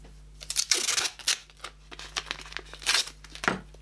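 Masking tape is torn off into strips, several quick ripping and crinkling bursts spaced irregularly, close and fairly quiet over a faint steady hum.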